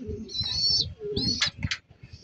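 A racing pigeon coos close by in a short burst of soft, throaty calls with higher chirpy notes mixed in, over faint background noise.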